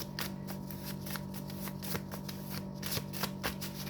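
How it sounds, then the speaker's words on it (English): Steady riffling of a deck of cards being shuffled, soft papery flutters repeating close by with no voices. "Shuffle again."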